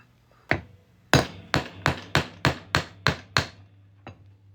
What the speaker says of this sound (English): We're gonna hammer it on through.